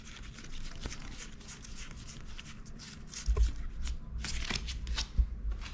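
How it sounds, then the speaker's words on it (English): Vintage Pokemon trading cards from a garage-sale collection are shuffled and handled close by, soft papery flicks and slides with a few louder taps and rustles. "So I searched through all of the cards that were around this little deck"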